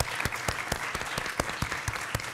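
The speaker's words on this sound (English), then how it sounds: "Round of applause, first of all," Audience at a clinical-trials conference session applauding after a talk, dense steady clapping from many hands with sharper individual claps popping out, fairly close and unbroken throughout.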